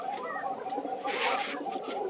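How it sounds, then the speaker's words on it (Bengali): Pigeons coo softly and repeatedly close by in a coop at dusk, a low burbling chorus with faint rustling and flutter, no talking. "কবুতর ঘরে ঢুকাচ্ছি"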